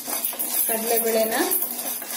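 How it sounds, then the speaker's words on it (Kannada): Chana dal roasting in a pan is stirred with a utensil, giving short scraping and rattling strokes over a soft sizzle, close and fairly loud, with no talk. "ಸ್ವಲ್ಪ ಸ್ವಲ್ಪ ಕೆಂಪು ಬರುವವರೆಗೆ ಹುರ್ಕೊಳ್ಳೋಣ ನೋಡಿ ಕಡಲೆ ಬೆಳೆ ಇಷ್ಟು ಹುರಿದ್ರೆ ಸಾಕು"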